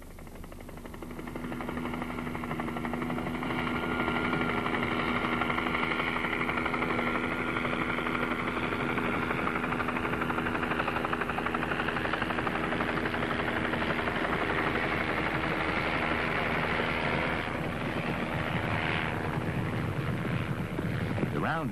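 A helicopter herds wild mustangs toward corrals, its loud, steady rotor drone holding throughout at close range, with faint voices underneath.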